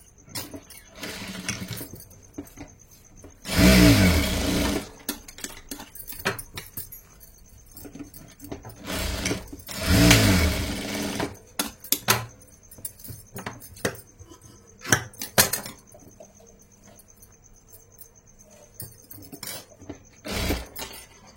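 A sewing machine runs in two short bursts while stitching a hook strip onto a blouse from the right side, with quiet handling clinks and rustles between runs and a final brief burst near the end.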